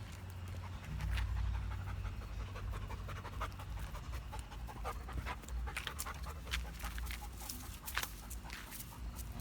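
Dogo Argentino dogs playing outdoors pant close by in a steady, rapid rhythm. Scattered thumps and rustles of play are mixed in, and no one speaks.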